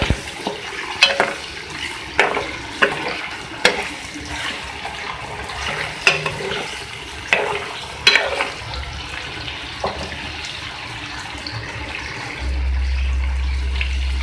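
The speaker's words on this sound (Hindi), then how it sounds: "ये देखिए चिकन हमारी फ्राई हो रही है" Chicken pieces frying in a karahi with steady sizzling while a utensil scrapes and stirs in repeated strokes, close up, ending in a low rumble.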